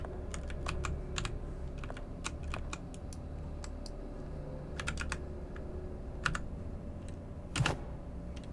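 Computer keyboard keys tapped in irregular bursts of crisp clicks, with one louder key strike near the end, over a steady low background hum; no talking.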